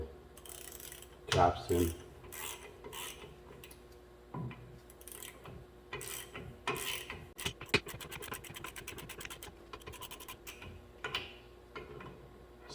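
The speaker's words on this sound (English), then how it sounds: "Get a ratchet here. So gently pull the" A hand ratchet draws in the differential bearing caps on a 2011 Ford F-150 rear end, giving bursts of close, crisp clicking between metallic clunks, with brief speech.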